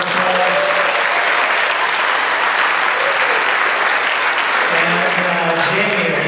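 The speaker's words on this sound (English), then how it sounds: "Give her a big round of applause." Sustained audience applause at a Hope for Women benefit concert, a dense steady wash of clapping from a large crowd that fills the whole stretch at strong, even loudness with a faint voice briefly audible beneath it.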